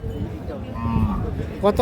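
Cattle sounds come through a noisy outdoor cattle market, with a low moo from a young cow with calf emerging briefly amid background voices and rumble.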